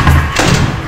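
A single dull thump, heavy and close, in the vents of the horror game Ultimate Custom Night, lasting under a second.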